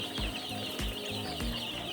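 Chickens on a poultry farm cluck and call at night feeding time, several short, distinct clucks spaced about half a second apart over a low background hum, fairly close.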